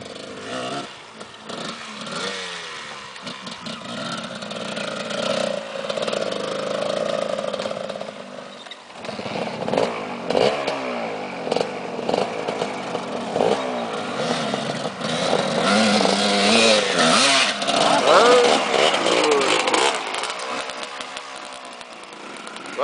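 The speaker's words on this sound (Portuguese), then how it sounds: "Acelera, roia! Acho que o Dorian tá indo embora, vai levar minha moto embora" A motorcycle engine revs repeatedly, rising and falling in pitch, loud and close, with bursts of throttle over about twenty seconds.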